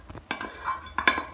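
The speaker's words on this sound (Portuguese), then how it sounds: "eu vou mexer até derreter completamente" A homemade liquid detergent paste is stirred in a basin until it melts, giving a few scraping strokes and sharp clinks of the utensil against the container, close and moderately quiet.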